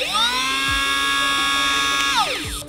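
Running at its fastest fourth setting, a LEFEET P1 sea scooter motor gives a loud, close, piercing whine that spins up quickly, holds steady for about two seconds, then drops off as it stops.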